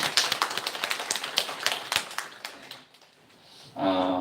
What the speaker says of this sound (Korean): 박수 쳐주겠습니다